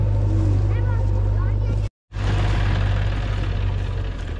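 A tractor engine, driven without its steering handle, runs with a steady, loud low drone close by, briefly cutting out for a moment before resuming, while people talk over it.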